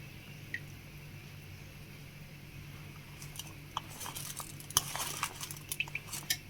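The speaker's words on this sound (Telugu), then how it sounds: "ఇప్పుడు ఉప్పుని పసుపుని కలిపేస్తున్నాము" Chopped ridge gourd pieces are tossed by hand with coarse salt and turmeric powder, faint quiet at first, then soft wet squishing and light clicks of the vegetable against the bowl growing busier near the end.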